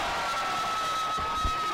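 A crowd at a boys' high school volleyball state championship regional groans and murmurs in frustration, a dense steady wash of voices with a few louder bursts near the end.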